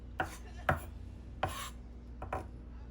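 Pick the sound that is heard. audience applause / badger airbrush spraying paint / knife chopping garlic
knife chopping garlic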